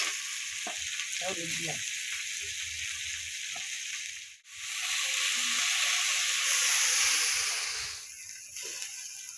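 Cauliflower fries in a pan and is stirred, giving a steady, loud sizzle with scraping stirs; a short break comes midway, and a voice speaks briefly at the start.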